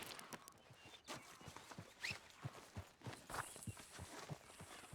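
A horse walks away in Red Dead Redemption 2, its hooves clip-clopping in a steady, quiet rhythm on the ground, joined by faint background rustling and no talk.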